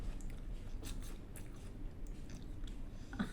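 Crunchy bites into a fresh Kissable apple, whose skin is waxed, giving a few crisp snaps followed by steady close-up chewing and mastication, with no talking.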